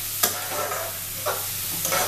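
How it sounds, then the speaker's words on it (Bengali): Onion, garlic and curry leaves fry in a pan for a mustard pumpkin dish, giving a steady close sizzle with a few scraping stirs. "পেঁয়াজ, রসুন, কারি পাতা একটু ভাজা ভাজা হলে"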